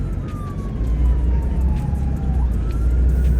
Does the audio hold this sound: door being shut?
no